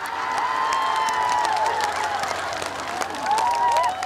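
Concert audience applauding at an outdoor pop festival during a trot performance, a steady dense wash of clapping and crowd noise with a faint sustained tone above it and no talk.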